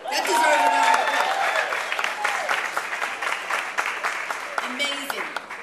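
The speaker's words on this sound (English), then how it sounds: "That deserves a round of applause." Audience applause at a live band performance at Los Angeles City Hall, many hands clapping steadily under voices calling out and cheering, tapering slightly toward the end.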